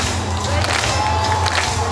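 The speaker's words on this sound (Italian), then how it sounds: "Vi chiediamo di battere le mani per chi ogni giorno combatte le mafie nel nostro paese." A crowd at an anti-mafia legality march in Joppolo Giancaxio claps together in a steady, sustained wash of applause with some cheering, fairly loud and continuous throughout.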